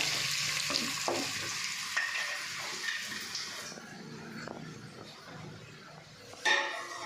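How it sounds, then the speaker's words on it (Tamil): Chopped onions fry in hot oil for kari dosa, with a steady close sizzle, occasional stirring scrapes and a louder clatter near the end. "வெங்காயம் பார்த்தீங்கன்னா நல்லா பொன்னிறமாக வதங்கணுங்க, அப்போ தான் டேஸ்ட் நல்லாயிருக்கும்"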